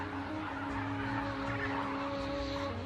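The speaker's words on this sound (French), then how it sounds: "ce lac est le rendez-vous des oiseaux migrateurs qui vont de l'Europe à l'Afrique" Birds call at a salty desert lake in Algeria where migratory flocks such as flamingos and storks gather, giving a steady, moderately distant chorus of honking and gabbling over the whole stretch with no speech.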